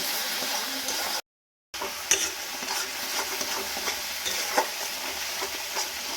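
A spoon stirs spices with a little turmeric powder in a pan for an egg curry, giving steady scraping and sizzling with a brief silent gap partway through.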